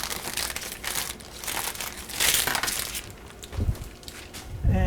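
An envelope package crinkles and rustles as it is opened by hand, a close, sustained crumpling with sharper tearing bursts, then a few light clinks and a brief voice near the end.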